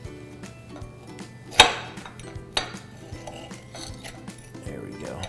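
A knife cuts into a peanut butter stuffed chocolate Oreo, giving a few clicks against a plate with one sharp clink and a second lighter tap, over quiet room noise.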